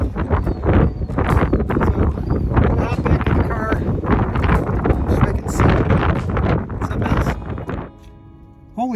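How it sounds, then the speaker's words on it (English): Strong gusty wind buffets the microphone in a dusty sandstorm at White Sands National Park, a loud, continuous roar with bursts throughout, dropping off abruptly near the end. "Extremely gusty, very windy, and all this dirt."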